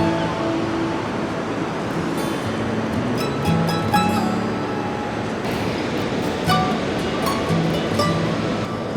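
Steady ocean surf washing onto the shore at St Combs in Aberdeenshire, a broad continuous rush of water heard close and loud, with no talk.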